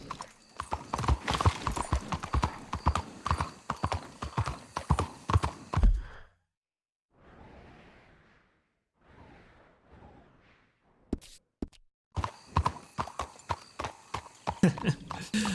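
Rapid clip-clopping horse hooves in Red Dead Redemption II, loud and close, with a short quiet stretch of soft rustling steps before the galloping resumes.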